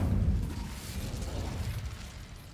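Incendio fire spell bursting in Hogwarts Legacy: a loud, low whooshing blast that opens strongly and then trails off into a fading rumble over a couple of seconds, with no speech.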